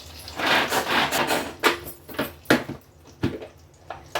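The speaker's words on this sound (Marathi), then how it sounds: "तोपर्यंत मी चॉपरमध्ये कांदा बारीक करून घेते" A pull-string chopper cuts onion finely: a series of rattling, clacking bursts as the cord is yanked three or four times, close and fairly loud with short pauses between pulls.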